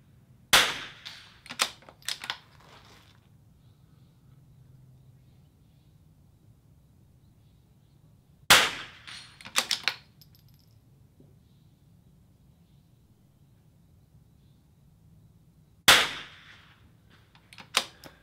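Sharp reports from a .22 rifle at an outdoor shooting range during a rimfire match, heard in three spaced bursts of two or three quick shots each, with quiet stretches of low ambient hum between them.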